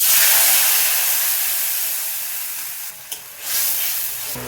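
Tomato paste going into a hot pan with green chillies, cardamom and cloves for a village-style katla fish curry, giving a loud, steady close-up sizzle that fades gradually, with a brief stir or scrape near the end.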